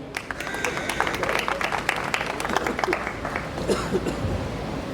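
An audience at a Minority Day conference in Karachi claps steadily and fairly loudly, a dense patter of many hands that continues throughout.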